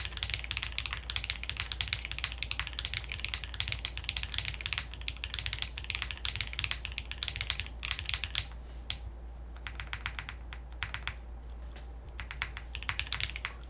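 Typing on a mechanical keyboard with blue switches, an aluminum plate, no foam and GMK keycaps: dense, rapid clacky keystrokes at close range, thinning into slower, sparser presses near the end.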